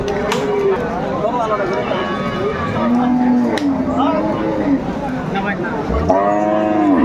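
Cattle moo repeatedly at a cattle market in Aftabganj, Dinajpur, where cows with calves are sold, amid loud crowd chatter and people talking nearby, with a strong drawn-out low near the end.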